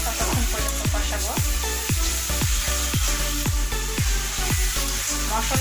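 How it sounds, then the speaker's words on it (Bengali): Spices frying in hot oil for a spicy rohu fish curry, a steady loud sizzle with rhythmic scraping strokes of a spatula stirring the masala, close up and without talk. "যতক্ষণে তেলটা উপরে ভেসে না আসে ততক্ষণ পর্যন্ত কষাবো।"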